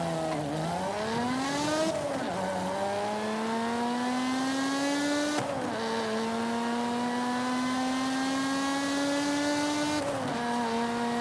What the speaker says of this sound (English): I'm just gonna let the audio play for itself, because this car sounds insane